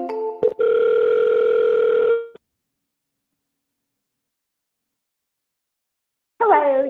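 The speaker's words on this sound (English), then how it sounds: "We're going to double dial." A telephone call in progress: a short buzzy tone with a click, then a steady ring tone lasting under two seconds, a long silence, and a warbling electronic tone returning at the end.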